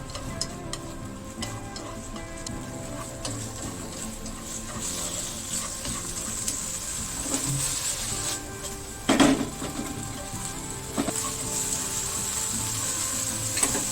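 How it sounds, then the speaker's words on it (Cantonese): Thin strips of pork sizzle steadily in a hot wok as a spatula scrapes and stirs them, with a constant hiss of frying and occasional knocks of utensil against metal. "先炒肉絲"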